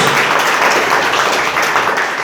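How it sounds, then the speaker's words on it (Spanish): A church congregation applauds steadily and loudly, a dense, continuous wash of many hands clapping together with no voices standing out. "¿Cuánto le dan un aplauso a ese Señor?"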